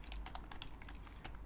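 A computer keyboard is typed on steadily with a quick run of soft key taps over low background hum, brief and close.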